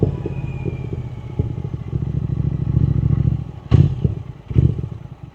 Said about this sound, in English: something like this would be a 1200cc crammed into a bike like this